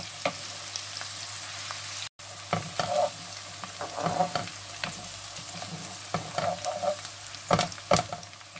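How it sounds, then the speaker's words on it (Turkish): Onions sautéing in a pan with steady sizzling and frequent scraping stirs, a short dropout partway through, no voices. "bir miktar soğanlarımız kavrulsun"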